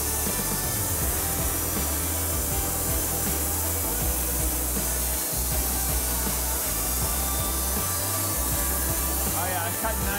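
A saw cuts through an elm live edge slab being book-matched, giving a steady, loud, continuous rasping roar with rhythmic low thumps underneath, and a voice sits faintly in the mix.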